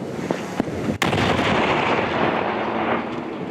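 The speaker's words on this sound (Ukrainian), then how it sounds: "Вибух!" A sharp blast followed by a long, rolling roar of rumbling explosions of destroyed munitions that sustains loudly for several seconds.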